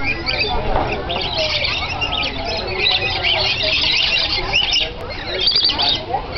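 Loud, busy squawking and screeching from many zoo birds at once, a dense chattering chorus that carries on without pause, with a faint voice underneath.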